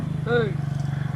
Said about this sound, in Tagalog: Kasi pumasok ng motor.